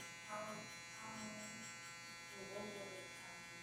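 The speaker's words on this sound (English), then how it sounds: "it's okay to kind of flick it out with the whole trimmer flat" Electric hair trimmer held flat and flicked outward while fading curly hair, a steady close buzz with slight changes in pitch as it moves, under quiet talk.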